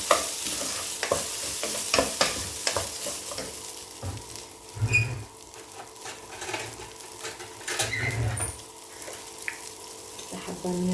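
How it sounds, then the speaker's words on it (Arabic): Pieces of butter sizzle in a hot pan while a utensil scrapes and stirs, producing clinks and soft crackling bursts that swell and fade, with brief quiet speech in the background. "انزل بقى هنا بقطع الزبده."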